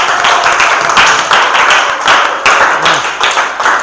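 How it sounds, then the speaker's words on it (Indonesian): A classroom of students clapping their hands together, a dense, loud burst of applause with sharp individual claps, close and continuous throughout. "tepuk tangan untuk Hindi."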